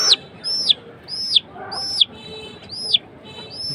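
An injured hen with a hurt wing gives five sharp, high, downward-sliding chirps, close and loud, spaced at a regular interval of about two-thirds of a second over quiet background noise.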